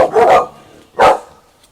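Dogs barking at horses passing by outdoors: two loud, close barks about a second apart, the first a doubled burst, with quiet between.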